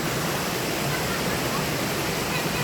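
Tagkuriring waterfall in Puerto Princesa, Palawan, pouring as a steady, dense broadband rush of falling water that holds evenly without pause, filling the scene at close range.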